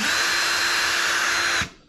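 A Ryobi cordless hammer drill spins its chuck at high speed, a loud steady whine held for about a second and a half, then cut off abruptly with the motor winding down.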